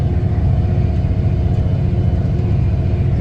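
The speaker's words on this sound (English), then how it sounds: "These vertical beaters really do a good job of tearing up the wads." Tractor pulling a manure spreader with vertical beaters through a field at about 8.5 mph, a steady loud low rumble of engine and churning machinery, no voices.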